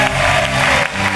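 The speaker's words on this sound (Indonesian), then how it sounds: "Boleh tepuk tangan untuk Rian." Studio audience applauding on the Family 100 game show, a dense, steady wash of clapping that fills the short moment at close range with no voice over it.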